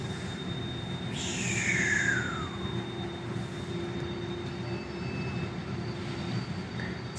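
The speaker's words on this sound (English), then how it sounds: "Basically just letting the hydraulics out of the line here" A 5000 lb in-ground scissor lift lowers as hydraulic fluid is let out of the line from its single-acting cylinders, giving a steady low hum with a brief falling whine and airy hiss early on.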